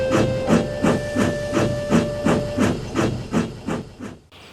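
Steam locomotive Thomas pulling away, a strong rhythmic chuffing of steam exhaust beats, about ten even puffs, with a faint whistle tone early on, close and loud with no talk.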